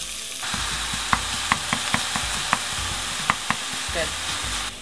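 Ground beef with onions sizzles steadily in a pan, with a run of sharp clicks from stirring and a brief voice near the end.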